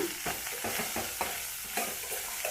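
Cluster bean palya with jaggery and fresh coconut being mixed in a hot pan, a steady sizzle broken by quick, repeated scraping strokes of the spoon, close and alone.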